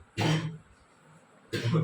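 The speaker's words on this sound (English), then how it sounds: "sorry guys, I'm coughing" Two short, harsh coughs close to the microphone, separated by about a second of quiet.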